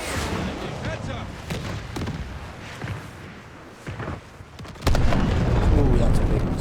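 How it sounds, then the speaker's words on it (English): A big airstrike explosion in the video game Modern Warfare (2019) lands as a loud, sustained boom and rumble, following scattered gunfire and blasts, with a voice talking over the noise. "Ooh, that's a big explosion."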